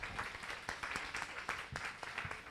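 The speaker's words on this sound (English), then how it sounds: "Let's give them a round of applause." A small event audience gives a brief, quiet round of clapping, loose and uneven with separate hand claps standing out against a faint background.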